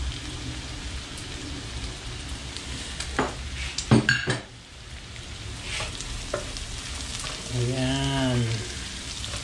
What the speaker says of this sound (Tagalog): gawin natin golden brown din yung ating bawang at sibuyas